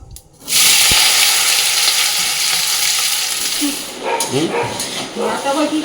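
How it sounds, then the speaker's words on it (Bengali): Potatoes drop into hot mustard oil in a wok and burst into a loud, sudden sizzle that holds steady. A voice talks over the frying toward the end. "কড়াই বসিয়ে দিয়েছি আলুটা ভাজার জন্য সরষের তেল দিয়ে দিলাম কড়াইতে"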